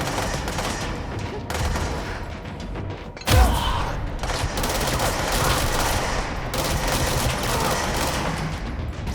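In the video game Control, enemy submachine guns fire in rapid, sustained bursts, with a heavy thump partway through and dense gunfire continuing around it.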